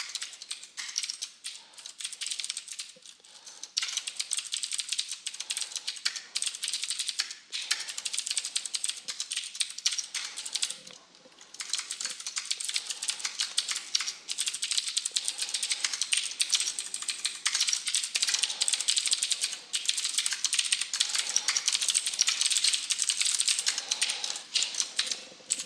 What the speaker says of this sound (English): It sounds like Darth Vader typing.